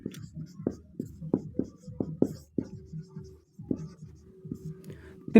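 Marker or chalk writing on a board while a maths problem is worked out, heard as a series of short, close taps and strokes in an uneven rhythm, with someone talking at the same time.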